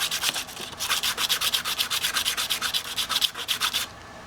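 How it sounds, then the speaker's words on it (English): Sandpaper rubs back and forth against a pool cue tip during a tungsten carbide ferrule and tip installation, producing steady, evenly spaced rasping strokes up close, alone with no talk, ending abruptly. "Okay, now I'm going to rough up the tip."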